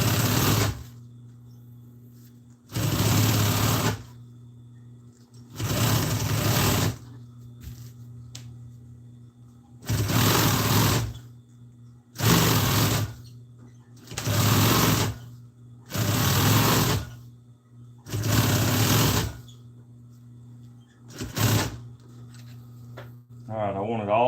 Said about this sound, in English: I thought y'all could see me sewing this up.